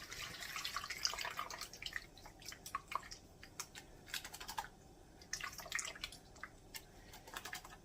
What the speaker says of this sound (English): we're going to drain all the juice